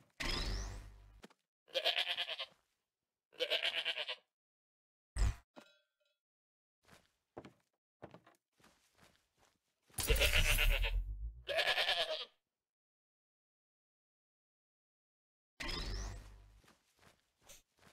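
Sheep in Minecraft bleat repeatedly, about six clear calls spread across the stretch, with soft footsteps and small in-game clicks between them in otherwise quiet gaps.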